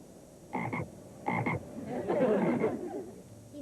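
Two short paired croaks sound close up, followed by a longer rough, rattling croak, with quiet background between calls.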